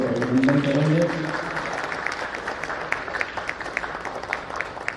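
An audience at an award ceremony for women in Dewas claps to welcome guests, a dense, steady patter of many hands. It starts under a voice speaking over a microphone and continues alone.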